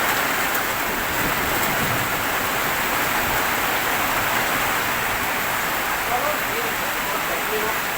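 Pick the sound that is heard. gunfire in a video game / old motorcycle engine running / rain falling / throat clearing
rain falling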